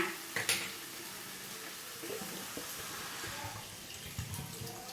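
Water is poured into a pot of drumstick and potato curry, a soft splashing and trickling at close range with a few clinks of the pot at the start.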